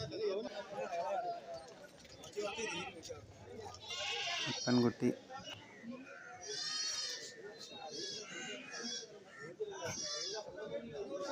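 Goats at a Kerala goat market give several loud, wavering bleats, clustered mid-clip and again near the end, while someone talks almost continuously over them.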